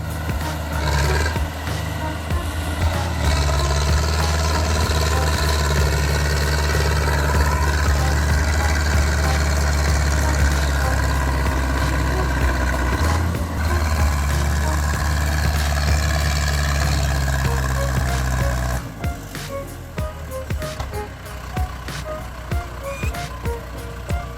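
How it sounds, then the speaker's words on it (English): A heavy Zader 7245 logging truck strains uphill while stuck in thick mud on a steep slope, its engine roaring loud and sustained with a deep steady drone, then easing near the end into rougher, lower rumbling with scattered knocks. "The engine roars again as it swings left, then right, trying again and again to build momentum."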